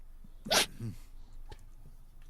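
A pet dog gives a short, sharp sneeze up close, followed by a softer snort and breathy sniffs in a quiet room.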